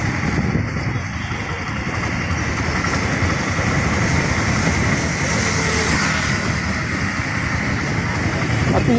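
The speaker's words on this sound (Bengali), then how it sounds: "এটা আপনার মেট্রো রেলের যে ব্রিজটা, সোজা গড়িয়া থেকে এই ট্রেনটা আসছে" A metro train rolls across an elevated bridge in Kolkata with a loud, continuous rumble and rattle that fills the scene, mixed with nearby road traffic noise.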